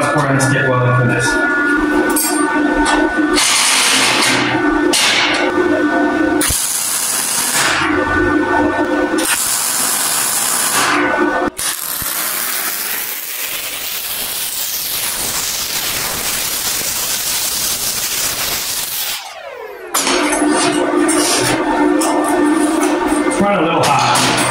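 MIG welding on steel with a Tooliom 200M three-in-one budget welder gives a loud, steady crackling hiss in long bursts, separated by brief pauses, with a quieter stretch in the middle.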